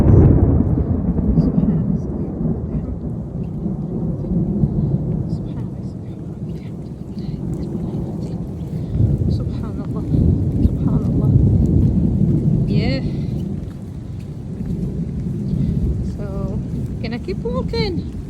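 Deep, rolling rumbles from a thunderstorm with rain while people walk outdoors in Florida. Loud low-pitched thunder swells and fades throughout, with faint voices and scattered small noises above it.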